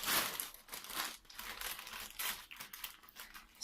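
Plastic shipping package from a Shein clothing order being opened nearby, with bursts of loud crinkling and crumpling, some tearing, and short pauses between handfuls.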